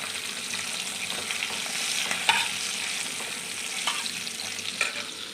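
Katla fish fat sizzles and crackles in hot oil in a kadai, a steady close frying hiss with a few sharper pops and stirring scrapes, no voices.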